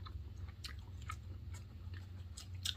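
Quiet, close crunchy chewing of a peanut butter macaron, a series of soft irregular bites and mouth sounds over a low hum.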